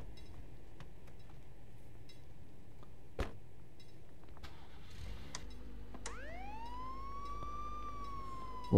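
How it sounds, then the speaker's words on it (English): Police car siren in Contraband Police, starting about two-thirds of the way in with a rising wail that climbs and holds, preceded by a few clicks and clinks, no talking. "Get the sirens on and make it look good."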